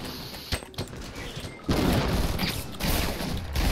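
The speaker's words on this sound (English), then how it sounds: "it was just grenade spam everywhere" Grenade explosions in a multiplayer video game, several scattered pops early, then a loud sustained roar of blasts and mixed gunfire rumble filling the rest.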